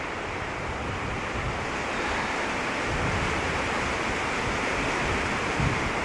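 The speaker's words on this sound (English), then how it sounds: "It's so windy. You hear it howling?" Cold, strong wind sweeps over a ridge on the Arizona Trail, a continuous dense roar that stays loud and close throughout, rumbling with microphone buffeting and never easing, with no voices.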